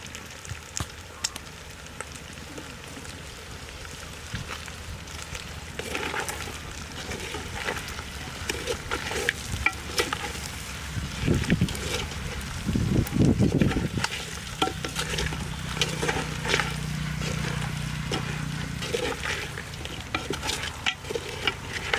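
Goat head curry frying in a clay pot, Telangana style, sizzles continuously while a spoon stirs and scrapes against the pot in irregular strokes, close and moderately loud throughout.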